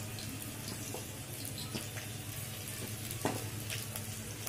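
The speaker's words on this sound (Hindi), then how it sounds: "अब मैं इसमें अपने ये लहसुन की कलियां और हरी मिर्च डाल रही हूँ" Garlic cloves and green chilies fry in hot oil in a home kitchen pan, giving a steady, broad sizzle that runs unbroken throughout at a moderate level, with no talking.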